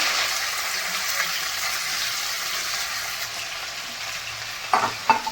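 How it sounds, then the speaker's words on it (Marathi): Okra sautéing in hot oil gives a steady, loud, close sizzle that runs throughout, with a few stirring clatters near the end. "आता ही भेंडी घालून घेऊ तेलामध्ये चांगली परतून द्यायची"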